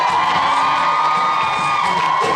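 University of Delaware DASA pageant crowd cheering and whooping loudly and continuously, a dense roar of voices with high shouts over it, close and full.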